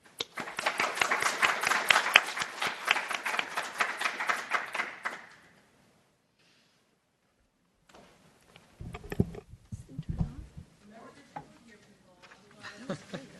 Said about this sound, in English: Let's a round of applause for our panel, please.